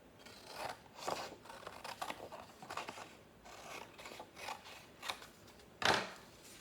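Scissors snipping through a sheet of paper to cut it in half for an art class collage, a series of short crisp cuts in an uneven rhythm, close and fairly quiet, ending with one louder final snip.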